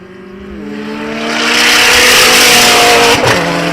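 A BMW and a Toyota MR2 launch down a drag strip at an outdoor drag racing event, their engines rising in a loud, close roar as they accelerate and pass, with pitch sweeping upward and shifting near the end.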